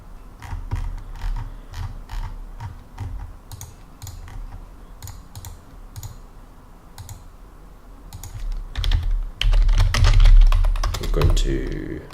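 Keys clatter on a computer keyboard as code is typed, steady irregular clicks that grow into a denser, louder flurry near the end, with a person talking throughout.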